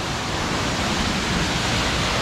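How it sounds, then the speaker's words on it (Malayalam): A small waterfall at 900 Kandi in Wayanad pours in a constant, dense rush of falling water, loud and close, with no breaks or other sounds. "സിമ്പിൾ വെള്ളച്ചാട്ടം."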